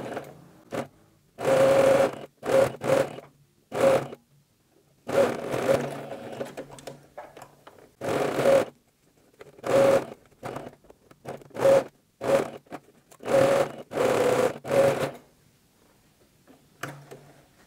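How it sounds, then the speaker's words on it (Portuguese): Domestic sewing machine stitching a fabric face mask: close, loud bursts of rapid mechanical stitching, each lasting about a second, separated by short pauses and faint handling noises. "Então vamos lá para a máquina agora que eu vou mostrar como é que eu vou fazer essa costura aqui"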